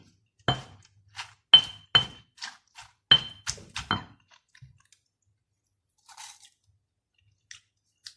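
Crunchy bites and chewing of Thai green mango salad, a series of close, sharp crunches in a burst then scattered softer chews, with faint clinks and no talk.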